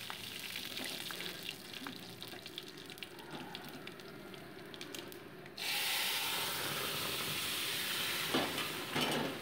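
Boiled vegetables go into a tempering of dry red chillies and five-spice in hot mustard oil, the gentle sizzle suddenly swelling into a louder, steady hiss about halfway through, with light stirring scrapes and no talking.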